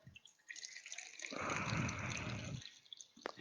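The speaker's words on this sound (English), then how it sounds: "I'm going to pour 50 milliliters of Jameson." Jameson whiskey poured into a jigger for a cocktail: a short, close liquid pour of about a second, framed by faint bottle and glass handling clinks.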